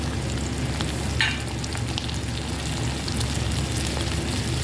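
Prawns fry in hot oil in a pan, giving a steady dense sizzle throughout with a brief louder spatter near the start.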